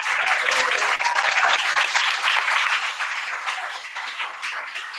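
Sustained applause from a convention crowd for Chairman Omali Yeshitela, dense and loud at first, then gradually thinning and softening toward the end.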